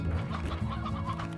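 Chickens in the video game Slime Rancher cluck in a close, busy chorus of short, overlapping calls over a low steady hum, with no talking.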